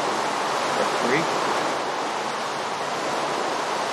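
Flowing creek water in the Minecraft video game gives a continuous, even rushing wash at moderate level, with no clear speech over it.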